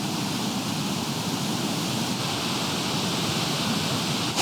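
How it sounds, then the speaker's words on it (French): A large waterfall on the GR5 trail through the Queyras in the French Alps gives a steady, loud, broadband roar that stays even and unbroken throughout. "Une énorme cascade."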